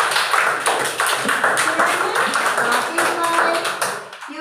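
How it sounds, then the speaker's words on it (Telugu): Young UKG children in a classroom clap together for a classmate, a dense run of rapid, uneven hand claps close by, with children's voices mixed in underneath. "అందరూ మోక్షిక క్లాప్స్ కొట్టండి"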